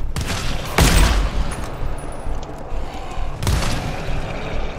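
Gunfire in the video game GTFO: a few loud, sharp shots with booming tails, a big blast near the start and another about halfway, over a low rumbling background.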